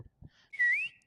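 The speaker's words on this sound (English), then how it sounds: "That's just a regular whistle." A person whistles one loud, sustained note that rises slightly, after a few soft knocks and breaths in an otherwise quiet room.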